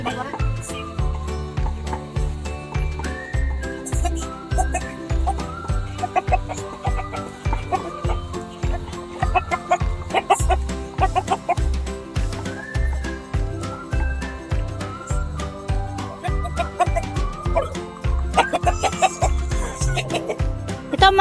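Caged Rhode Island chickens, along with other native breeds, cluck and chatter continuously while eating organic feed on a farm, with steady pecking and a low rhythmic hum throughout.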